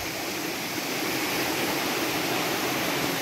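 Water rushes from the spring resurgence at Fontaine-de-Vaucluse over eroded rocks in a continuous, loud, broadband roar that holds steady throughout.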